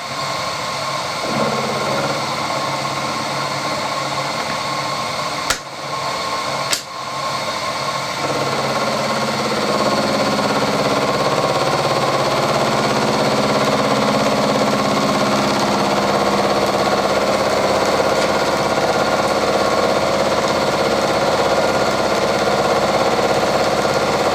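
A metal lathe takes a 1 mm cut, a steady whining machine drone with a hum underneath, two brief clicks early on, then a long even tone that runs unbroken to the end.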